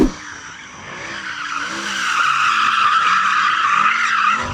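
A Mercedes AMG SLS Black Series warms up its tyres at a drag race, a loud, sustained high tyre squeal that builds and holds for several seconds.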